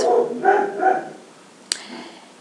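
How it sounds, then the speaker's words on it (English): A few close dog barks and yips in quick succession at home, followed by a brief sharp click and faint low sounds. "My dogs."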